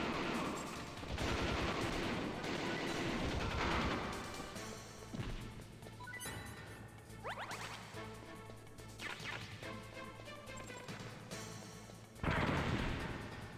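Gunfire in Metal Gear Solid: scattered bursts and sharp impact cracks, fairly quiet, with a low steady hum beneath and a louder flurry at the end.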